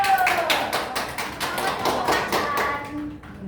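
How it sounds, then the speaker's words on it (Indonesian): Scattered clapping from a group of students in a classroom, a quick run of claps that thins out and fades after a few seconds. "Coba tepuk tangan dulu."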